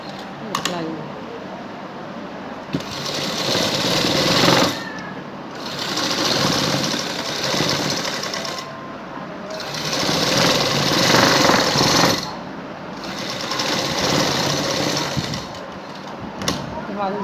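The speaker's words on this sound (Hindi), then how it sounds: "दूसरी साइड पे हमने सिलाई लगानी है।" Sewing machine stitching a simple garment neck design, running in several bursts of steady mechanical whirring with short pauses between them, nearby and fairly loud.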